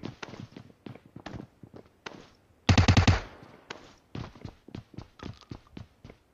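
Gunfire in a shooter video game: scattered single shots and short bursts, with one dense rapid-fire volley in the middle, and footstep-like clicks between them.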